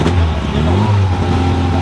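A car engine revs hard at an outdoor car fair, loud and close, a sustained throaty roar with rising pitch and no pauses.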